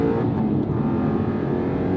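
An Aston Martin engine roars at full throttle, a dense continuous rumble heard from inside the car with no talking over it.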